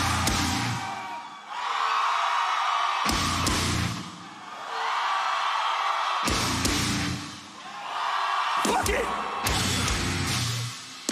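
A huge crowd screams and roars at a live metal concert, swelling in loud sustained waves that cut off into near silence between bursts.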